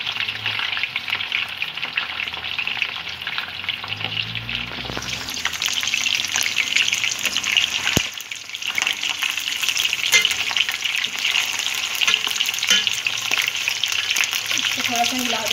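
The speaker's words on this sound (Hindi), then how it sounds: "अब हम फिश को फ्राई कर लेंगे" Fish fries in hot oil with the onions, giving a dense, continuous crackling sizzle that stays loud and even, with brief bursts of louder spitting throughout.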